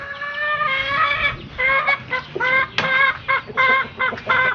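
A hen clucks repeatedly in short, loud, close bursts, a series of strained cackling calls at a farmyard house, with no talk over them.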